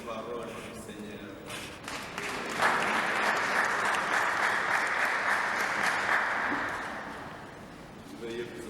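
A church congregation at a funeral service breaks into sustained applause, a dense, moderately loud clapping that swells, holds for several seconds and tapers off, with voices around it.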